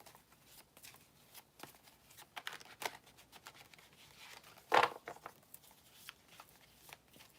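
Tarot cards are shuffled by hand in short soft riffles and flicks, quiet and close, with one sharper burst of card noise partway through.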